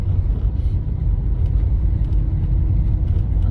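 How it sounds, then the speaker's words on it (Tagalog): Heavy, congested road traffic near Ateneo in Quezon City: a steady low rumble of idling and slowly moving car engines, continuous and fairly loud, with no voices. "Sobrang traffic ngayon guys dito guys."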